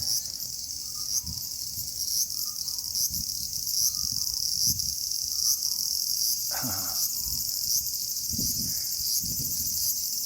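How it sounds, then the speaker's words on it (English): A loud, steady high-pitched drone of cicadas fills the air from the trees in Nagoya, Japan, constant and unbroken, with faint rustling beneath. "Bit different to the cicadas we have in Australia. You're very noisy."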